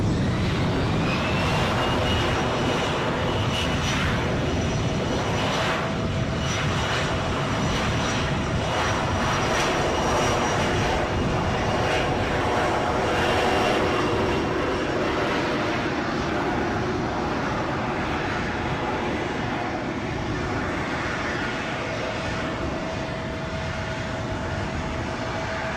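An Embraer 145 jet at Edinburgh airport sends out a continuous, loud engine roar with a thin high whine, rumbling steadily close by for the whole stretch.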